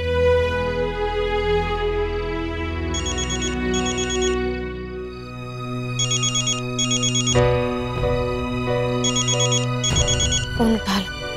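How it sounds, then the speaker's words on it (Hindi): A telephone ringtone plays in repeated bursts of bright electronic tones over a dramatic music score in a Hindi television drama scene, fairly loud and close. "फोन उठा लो"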